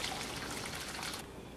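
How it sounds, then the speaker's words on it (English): Boiling water pours over corn husks in a big bowl, a brief, close, steady trickle and splash lasting just over a second. "Cover them with boiling water"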